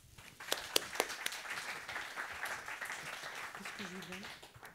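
A modest audience claps at a participatory theatre debate on the future of the ocean in Nouvelle-Aquitaine. The scattered, fairly soft applause mixes with voices talking over it, and a few sharper claps stand out early on.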